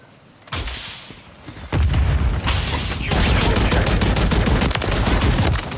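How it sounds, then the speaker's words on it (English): Call of Duty MW3 combat: a grenade blast lands early, then a loud, sustained barrage of rapid gunfire and booms fills the rest, dense and close. "Grenade out!"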